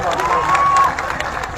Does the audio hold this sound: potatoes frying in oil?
no